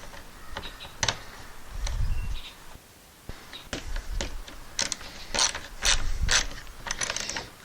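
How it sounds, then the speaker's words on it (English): A hand ratchet snugs a bolt while a floating pool chair is assembled, close, irregular clicking strokes in short bursts with faint handling noise between them. "and the ratchet."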